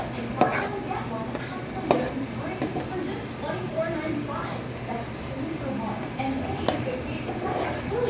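A utensil knocks and scrapes in a pot while ingredients are mixed into goto, a rice porridge, with soft irregular clatter under a person's ongoing talk.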